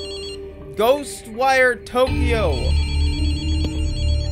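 A telephone rings in a burst of warbling electronic tones, then a low steady hum carries on beneath a short spoken phrase.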